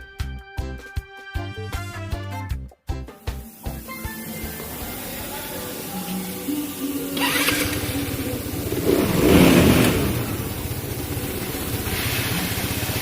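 FYRO175i carbureted scooter engine starting up with a series of sharp sputtering pops, then settling into a steady close idle and revving up and down in a loud, continuous drone.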